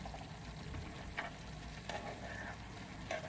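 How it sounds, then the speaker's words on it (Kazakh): Liver, carrot, onion and sweet pepper frying in vegetable oil in a pan, a steady low sizzle with a few brief stirring scrapes, close and quiet with no talk. "бауыр, морков, жуамызды және перецімізді турап қуырып аламыз осылай сұйық майға"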